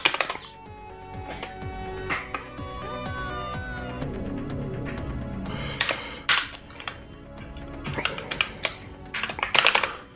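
Fingers tap a computer keyboard in quick irregular bursts while hacking on Firefox code, the clicks close and crisp with short pauses between runs of keystrokes.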